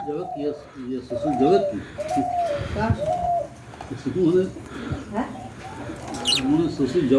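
Pet budgerigars, one white female and one blue male, chirp and squabble in a cage, warbling calls coming in bursts beneath someone talking over them.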